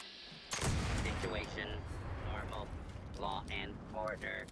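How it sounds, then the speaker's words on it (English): A black powder blunderbuss fires in Fallout 76, one sudden loud boom that rolls into a rumbling tail, with someone talking over the following seconds. "this is a blunderbuss right here. That's what I'm using."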